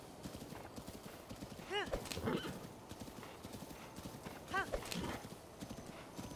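Hooves of a horse galloping in a video game clip-clop steadily throughout, with two clear neighs breaking through, one near two seconds in and another around four and a half, over a busy game backdrop with light talk.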